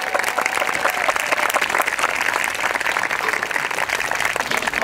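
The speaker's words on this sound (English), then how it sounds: "So let's give them one more round of applause because we're really happy to have them." Continuous, energetic applause from a crowd at an outdoor Eighth of May emancipation celebration, dense and even for the whole stretch with no speech over it.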